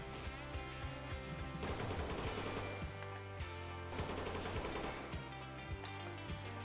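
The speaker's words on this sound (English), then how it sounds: "For reference, yes, I am mag dumping just everyone." Video game gunfire as a player empties whole magazines, loud continuous automatic bursts that keep rattling with only brief breaks, no talking.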